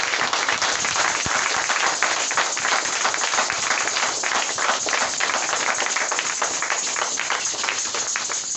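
A church congregation gives sustained, dense applause for Jesus Christ, many hands clapping steadily throughout with no talk over it.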